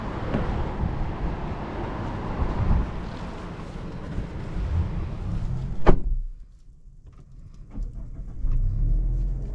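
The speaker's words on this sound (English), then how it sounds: "let's go ahead and take this CX-50 on a test drive" A 2023 Mazda CX-50 SUV with a 2.5 turbo pulls away, its broad road and engine rumble loud and close until an abrupt cut to a quieter cabin hush with a soft thump.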